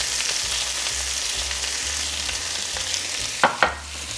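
Potatoes coated with breadcrumbs and smoked paprika fry in a pan with a steady close sizzle, broken by scraping stirs and two distinct utensil knocks toward the end.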